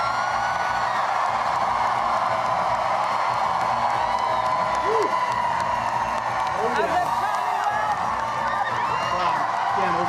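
An electric crowd of supporters cheers, whoops and applauds loudly and continuously at a governor-elect's election-night victory address, with a voice speaking over the steady roar.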